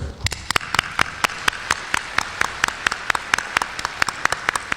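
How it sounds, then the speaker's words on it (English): Steady applause from a conference audience in Seoul after a speaker, with crisp, evenly spaced individual claps standing out over a dense wash of hand clapping throughout. "please give him another warm round of applause"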